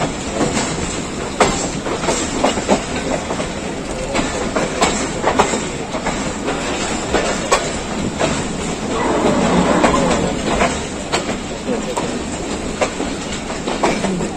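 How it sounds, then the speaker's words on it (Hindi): A passenger train rolls into the Lahore Junction railway yard in Pakistan, with loud, steady rumble and a continuous run of clickety-clack wheel beats over the rail joints and faint wheel squeal. "लाहौर रेलवे यार्ड में गाड़ी दाखिल हो चुकी है।"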